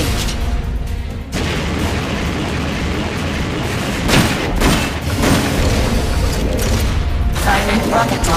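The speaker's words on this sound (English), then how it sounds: "Flamethrower engaged." Flamethrower firing in Metal Gear Solid Peace Walker: a loud, dense roaring blast that rumbles continuously, with heavier booming surges and bursts partway through.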